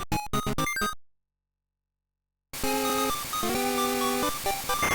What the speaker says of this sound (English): It's an alarm clock.